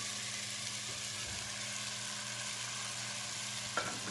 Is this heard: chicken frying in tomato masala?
yes